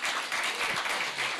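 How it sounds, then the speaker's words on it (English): Applause from the audience at the opening event of a Somali week festival, a short steady wash of clapping in a large room. "Round of applause."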